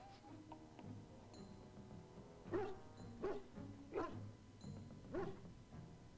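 A dog in the video game Dragon Age: Origins barks four times at a steady pace, moderately close and fairly quiet, over soft ambient game music.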